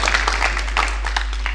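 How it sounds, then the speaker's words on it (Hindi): Audience applause at a mushaira poetry gathering in Gondi, Hapur, a short burst of dense clapping from a crowd over a steady low hum. "एक ज़ोरदार तालियाँ बजा दें।"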